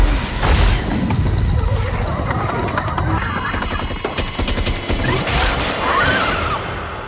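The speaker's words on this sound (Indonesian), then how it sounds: "menghujani alien dengan tembakan hingga makhluk itu hancur" Sustained gunfire in a movie battle scene as soldiers shoot down an alien, a loud, dense barrage of rapid shots and crashing impacts that runs the whole time with a voice narrating over it.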